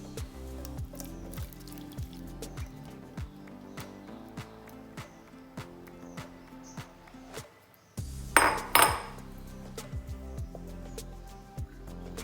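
Quiet drips and light clinks, then a sudden cluster of soft thuds and wet splatter as tomatoes drop into a pan of water, followed by gentle sizzling-like drips.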